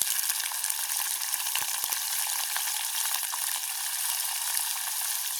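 Dried fish and onions fry in a pan during village cooking, giving a steady, dense sizzle with a few soft stirring knocks, close and continuous, with no talking.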